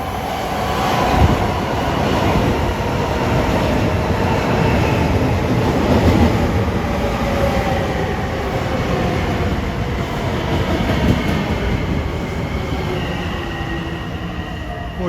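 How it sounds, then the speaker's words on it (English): An LIRR Main Line train, number 1556 running from Penn Station to Huntington, rumbles past close by in one loud, continuous roar of wheels and cars that holds for the whole stretch, with no voices. "Approaching at 3:49 is train 1556, Penn Station to Huntington"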